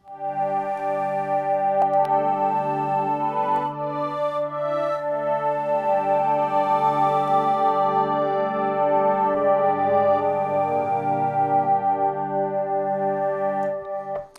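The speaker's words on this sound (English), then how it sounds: "we will be designing a morphing pad." A sustained morphing synthesizer pad made in Native Instruments Massive, with rich stacked harmonics, its tone slowly shifting and morphing, steady and fairly loud throughout with no talking.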